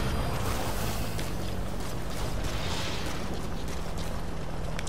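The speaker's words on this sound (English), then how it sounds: "is that vehicle coming back?" A vehicle rumbles past in Metal Gear Solid V free roam, a steady, loud, broad engine drone with low hum filling the whole stretch, no talk over it.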